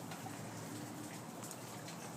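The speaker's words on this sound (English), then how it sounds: "That's puppy's first rain" Steady, soft hiss of rain falling around a puppy, an even wash of patter with no distinct drops standing out and no voices.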